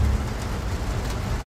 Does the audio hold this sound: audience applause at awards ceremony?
no